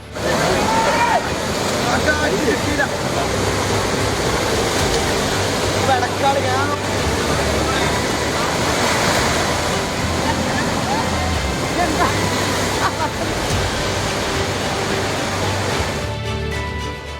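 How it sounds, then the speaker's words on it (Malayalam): Water from Kozhippara waterfall spills and trickles over small rocks, a loud, steady rushing wash that runs for the whole stretch, with a voice talking over it at times. "എൻ്റെ പുറകിലായിട്ട് ഇങ്ങനെ ഈ വെള്ളം ഇങ്ങനെ ഒലിച്ചു വരുന്നത് കാണാൻ ഇതിൻ്റെ ഇടക്കായിട്ട് ചെറിയ ചെറിയ പാറക്കെട്ടുകളുണ്ട്"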